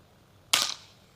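A single sharp rifle shot fired at a 5-metre target while sighting in a thermal scope for rat shooting, close and loud with a quick decaying tail, quiet before and after.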